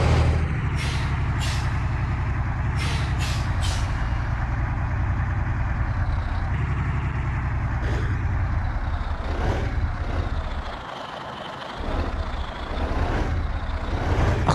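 Tata sand truck in Bus Simulator Indonesia rumbles off-road with a loud, steady low engine drone, several sharp hissing air-brake bursts early on, and a brief dip and surge in engine noise later.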